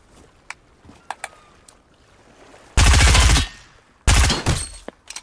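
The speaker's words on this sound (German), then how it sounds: "Da ist die Kanone." A pirate cannon in the Fortnite video game fires two loud, booming blasts about a second apart, each followed by a short rumbling tail. Faint scattered clicks come before them.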